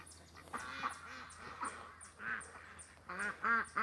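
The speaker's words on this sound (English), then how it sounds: "Come on out there, little duck." A duck quacks repeatedly in a string of nasal, honking calls at close range, with short gaps between bursts and the loudest quacks toward the end, over faint outdoor background noise.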